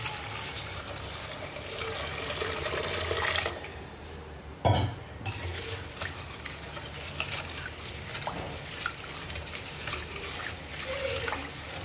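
Water poured into a vessel of jaggery with crushed pepper and cardamom for Sri Rama Navami panakam, a steady close trickle and splash followed by scraping stirring, no speech.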